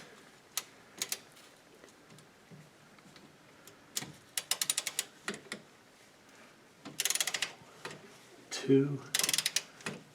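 A ratchet tightens the rear differential cover bolts on a Chevy Colorado in a star pattern, giving several short bursts of close, crisp clicking. A man briefly counts aloud between the bursts.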